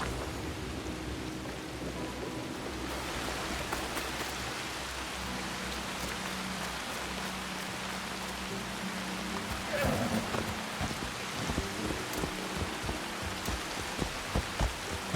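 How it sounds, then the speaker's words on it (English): Steady rain hisses through a stormy scene in the video game Assassin's Creed Shadows, a constant wash of falling water with rumbling thunder swelling near the end. "All this rain."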